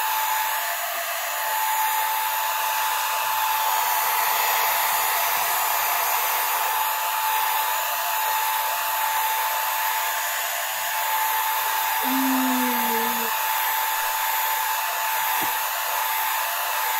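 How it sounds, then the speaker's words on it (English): A hair dryer blowing steadily on a gingerbread house, a continuous loud whooshing drone running the whole time with a brief low hum partway through. "I never used a blow dryer on a gingerbread house,"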